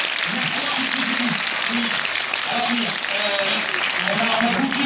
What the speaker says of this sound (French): je crois qu'on peut applaudir très très fort